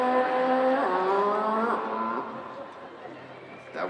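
Car engine revving as a sound effect at a cosplay competition: a loud, rising engine whine climbing in three gear-shift steps, then easing off into a quieter rumble with a short rasp at the end.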